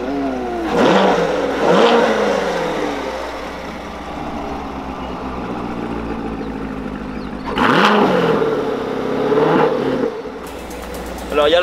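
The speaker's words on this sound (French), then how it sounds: "Alors il y a le son de l'échappement" Chevrolet Corvette C7 engine and exhaust being revved, two loud rising revs a few seconds apart with a steady idle rumble between them.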